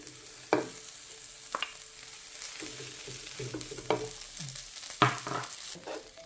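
Rice vermicelli stir-fries in a hot pan for vegetarian mee hoon goreng, a continuous close sizzle broken by a few sharp ladle clanks and rhythmic scraping strokes.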